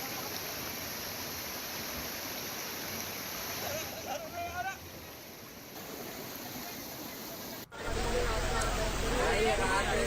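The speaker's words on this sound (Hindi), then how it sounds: "पानी की इस रफ्तार को देखकर हर कोई हैरान है।" Fast-flowing floodwater after heavy rain in Rajasthan rushes in a continuous broadband roar, loud and steady, with people talking over it and a sudden louder, closer surge near the end.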